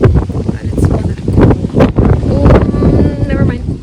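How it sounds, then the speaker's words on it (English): Wind blows hard outdoors on a university campus, buffeting the microphone in rough, loud gusts throughout, while a voice talks faintly beneath it. "It's very windy,"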